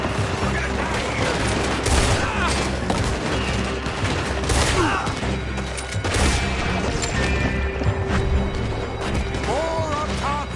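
Heavy gunfire in Red Dead Redemption 2, a dense fusillade of overlapping shots and booms over ten seconds, with voices shouting during the shootout.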